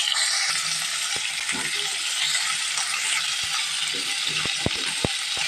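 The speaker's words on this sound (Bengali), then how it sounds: "পটলগুলো কিন্তু ভেজে নেব।" Pointed gourd (potol) fries in a pan with a continuous bright sizzle, broken by scattered sharp clicks and taps of a utensil against the pan, especially toward the end.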